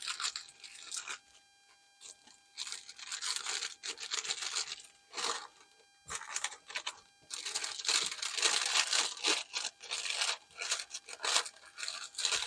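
Foil or paper wrap being folded up around food, with bursts of close crinkling, tearing and crunching that come in irregular handfuls and quiet pauses between them.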